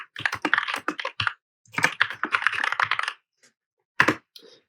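Fingers type on a computer keyboard in quick close bursts of clicking keys, broken by short pauses and a final few taps, with no voice.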